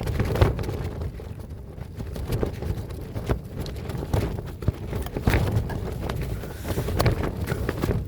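Strong outdoor wind buffets a microphone in low, uneven rumbling gusts with occasional thumps, loud and close throughout, with no talking.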